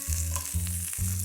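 Carrots, garlic and vegetables sauté in hot oil at medium-high heat with a soft sizzle, broken by three short bursts of stirring or scraping, quiet and close with no talking.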